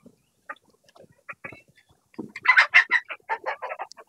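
Tiger chickens in a poultry shed holding 22 breeding hens and 4 roosters give scattered soft clucks at first, then a louder, busy run of clucking and squawks nearby.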